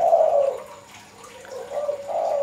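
A spotted dove (tekukur) kept as a decoy bird coos nearby, two soft, clear cooing phrases separated by a short pause.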